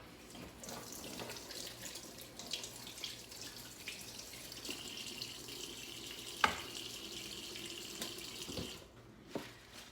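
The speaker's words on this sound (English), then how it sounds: "Now I'm going to have to rinse my fingers off because I got stuff on them." Running tap water splashes over fingers at a kitchen sink while pork carnitas are prepared, a steady broadband wash with small drips and clinks, ending abruptly as the faucet shuts off near the end.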